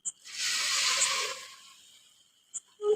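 Garlic tadka poured into dal hisses in one loud, steady burst for about a second and then fades, followed by a few faint clicks close by. There is no talk.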